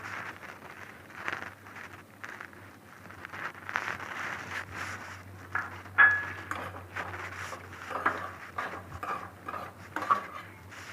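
Semolina roasting in ghee in a hot kadhai, stirred with a metal spoon, produces soft, irregular scraping and clinking against the pan with quiet sizzling in between, close and unaccompanied by speech.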